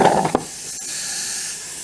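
Paint misted from a spray can onto miniature asteroid bases, a short hissing burst with a brief tap, then a faint lingering airy hiss, close and with no talk.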